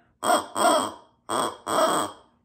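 A person imitates ducks with four loud, nasal quacks in two pairs, close up and alone.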